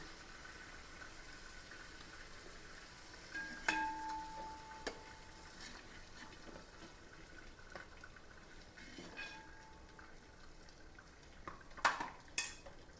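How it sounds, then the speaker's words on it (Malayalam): Chicken shallow frying in a pan for dum biryani, heard as a faint low sizzle with scattered clinks and scrapes of a utensil against the pan, a few louder knocks near the end. "അപ്പോൾ ഫസ്റ്റ് ട്രിപ്പ് ചിക്കൻ നമുക്ക് മാറ്റാം ഒരു ഷാലോ ഫ്രൈ മാത്രമേ ഉള്ളൂ കേട്ടോ"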